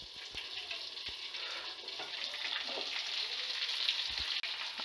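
Stuffed brinjals fry in a wok after the lid comes off, a soft, even sizzle that holds steady throughout with a faint utensil tap or two, no voices.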